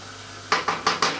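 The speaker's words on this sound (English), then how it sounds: "So now you can start hearing that frying. Hear that popping?" Food frying in a pan while cooking lasagne, with four sharp crackling pops at a steady rhythm over a low background hum, close and clear.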